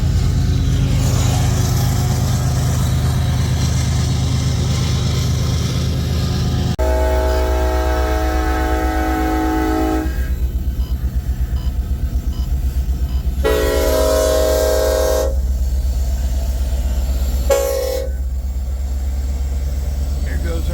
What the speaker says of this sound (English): This is our now westbound empty coal drag that just did a crew change here.